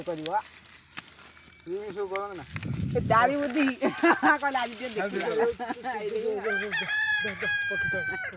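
Chickens cluck and a rooster crows nearby in an Indian village yard, the bird calls rising and falling around lively conversation, with a clear drawn-out crow toward the end.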